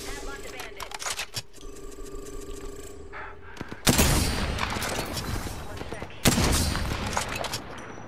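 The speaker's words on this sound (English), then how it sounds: "Opening fire." Bursts of automatic gunfire in the Apex Legends video game, heavy and close, with two especially loud volleys breaking out partway through and in-game voice lines heard between them.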